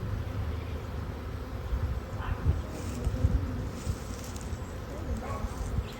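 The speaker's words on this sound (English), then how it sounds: "That's called a feral colony of bees." A feral colony of bees swarming gives off a steady, low buzzing hum that runs for the whole stretch at moderate distance, with small swells in intensity.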